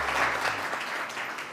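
Studio audience on a TV morning show clapping, a short dense burst of applause that fades within a second or two.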